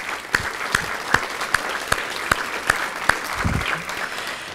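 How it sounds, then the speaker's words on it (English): A thinner round of applause at an alumni brunch, with a few close, distinct hand claps at a regular rhythm over scattered clapping from the room and a little low murmur. "Let's give them one more round of applause."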